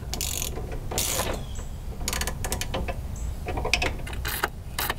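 A ratchet wrench tightens a nut on a BMW E30 rear wheel hub during a bearing install, giving repeated bursts of rapid clicking with short pauses between strokes, close and fairly loud, with no talk.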